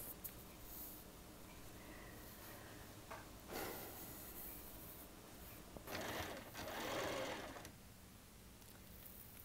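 A sewing machine stitches fabric in short, quiet bursts of whirring, with pauses between runs and soft handling noise in between.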